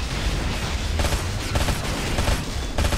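Rapid, dense gunfire from several weapons at once in the Halo SPV3 mod, including plasma rifle shots, firing almost continuously with sharper bursts punching through a steady barrage, loud and close.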